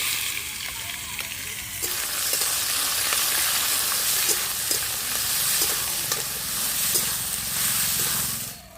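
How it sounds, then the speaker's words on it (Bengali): Sliced onions and whole cumin seeds fry in a pan over a wood-fired clay stove, a loud steady sizzle and hiss with light stirring ticks, a faint voice briefly underneath. "আমি পেঁয়াজগুলো কিছুটা সময় ভেজে নিয়েছি"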